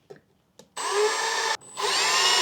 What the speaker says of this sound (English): We're gonna go ahead and start drilling holes in this panel.